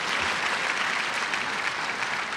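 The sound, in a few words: audience applause for council members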